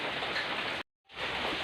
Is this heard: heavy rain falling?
yes